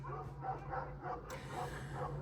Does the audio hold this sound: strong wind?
no